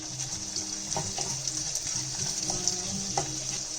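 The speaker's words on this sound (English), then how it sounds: "I'm going to saute this till it's a little brown." Onion and garlic sautéing in butter in a pan, a steady soft sizzle with a faint hiss and occasional stirring clinks, close and continuous without talk.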